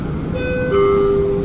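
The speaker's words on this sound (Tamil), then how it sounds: "வழக்கம் போல் ட்ராமும் கிளம்பியாச்சு." A Dubai tram pulls away from a station near Jumeirah Beach Residence, giving a steady, loud mechanical hum with a rising electric whine and constant background rumble, heard alone.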